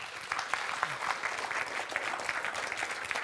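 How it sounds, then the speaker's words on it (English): Moderately loud audience applause after a university lecture on race and ethnicity, with distinct individual claps crackling through a continuous patter that holds steady from start to finish. "How about a round of applause for Dr. Bai?"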